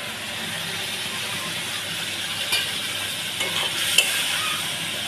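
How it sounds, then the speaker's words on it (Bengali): A pan of hot oil sizzles steadily where a fried hilsa fish head has just gone in, with brief scraping stirs and a sharp clink near the end, and no one speaking. "এই যে মাথাটা ভেজে নিয়েছি দিয়ে দিলাম"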